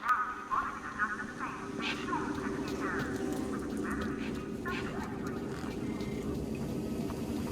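Birds squawking and quacking near the back of a truck in the video game Beyond a Steel Sky, a few sharp calls over a steady low ambient hum, moderately near.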